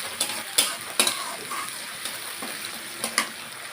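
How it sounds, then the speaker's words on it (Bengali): Spice masala and a splash of water frying in a pan for a banana-stem lentil dish, a close, even sizzle broken by sharp spoon scrapes and knocks at an irregular stirring rhythm. "এবার আমি দিয়ে দেব মশলাটা, সঙ্গে দিয়ে দেব সামান্য একটুখানি জল, যেন মশলাটা সুন্দর করে কষে যায় সব কিছুর সঙ্গে।"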